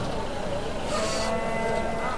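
Cattle moo at a busy livestock market in Vaniyambadi, Tirupattur district, one low call rising over steady crowd and market noise.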